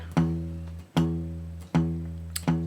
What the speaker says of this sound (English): the palm mutes the bass strings only